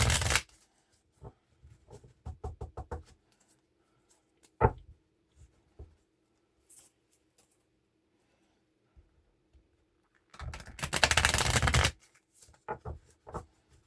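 Tarot cards are shuffled by hand in a quiet room, heard as bursts of quick riffling flutters and scattered taps with pauses between, and one long loud riffle near the end.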